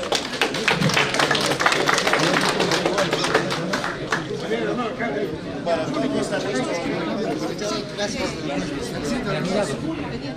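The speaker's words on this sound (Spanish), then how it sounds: "¡Palmas, compañeros!" A rally crowd in Puno claps loudly and continuously for about ten seconds, a dense patter of many hands mixed with steady crowd chatter and voices throughout.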